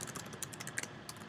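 Quick light keystrokes clatter on a computer keyboard while a comment is entered into a grade reporting program, a brief irregular burst of taps at close range with no talking.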